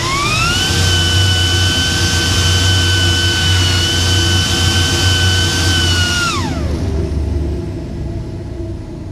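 A Wynn-filter dust collector blower runs at full speed with the filter removed, giving a loud, steady roaring whoosh with a high whine. After several seconds the pitch drops as it begins winding down.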